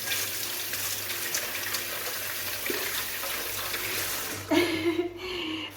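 Tap water runs steadily into a kitchen sink as squid is rinsed, a soft continuous stream that briefly splashes louder near the end.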